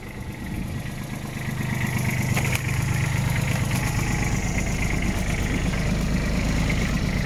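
A Kubota Aste A175 compact tractor, imported from Japan and delivered unwashed and unpainted, idles with a steady low diesel rumble, then shifts into reverse and slowly drives off. The engine runs continuously and close by, with no talk.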